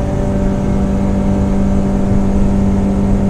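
A Yamaha 115 outboard motor on a 1987 Arima SeaChaser 17 boat running at full throttle, a loud, steady, close engine drone with a constant pitch and no pauses.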